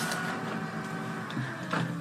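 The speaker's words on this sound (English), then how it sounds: "So my regular printer is noisy." An office printer runs noisily with a steady mechanical hum and whir, the pitch shifting slightly near the end as the paper feed works, close and continuous with no talking.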